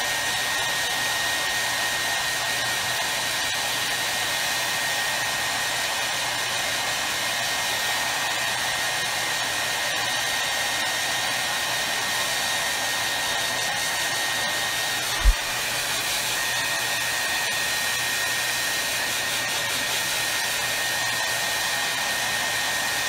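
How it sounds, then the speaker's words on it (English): A handheld hair dryer blows on freshly painted wooden date blocks, giving a continuous, loud, even roar with no breaks, and one sharp click partway through. "I am going to speed this up with my lovely hair dryer again"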